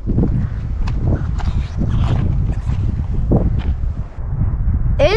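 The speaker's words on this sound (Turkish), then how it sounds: "Rüzgar çok ilginç." Strong wind blowing outdoors at an ancient site, heavy gusting buffeting the microphone with loud low rumbles and scattered rustles and knocks throughout.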